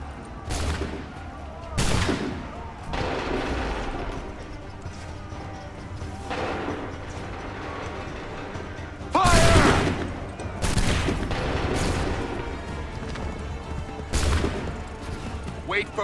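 Volleys of musket fire from the Assassin's Creed 3 video game ring out in repeated bursts, with a loud, dense salvo near the middle and scattered shots around it, mixed with game ambience and voices.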